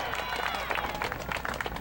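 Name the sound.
veterans parade crowd cheering and applauding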